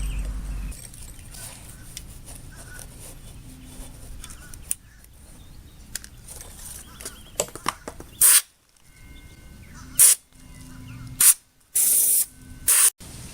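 Compressed air blows dust out of a Skilsaw Model 77 circular saw during a restoration. A steady low hiss runs at first, then several sharp, loud blasts come in short separate bursts near the end.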